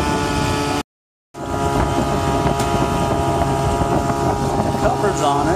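Boat motoring at about 20 knots at sea in a following sea: steady loud engine drone with wind buffeting the microphone, a brief cut near the start, then continuous rushing noise.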